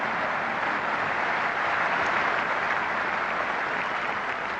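A cricket crowd at an England versus India test match gives a sustained ovation, thick continuous clapping from a large stadium audience, loud and steady from start to finish.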